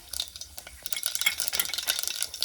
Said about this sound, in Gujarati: તો આ થોડીક રાઈ નાખી દઈએ.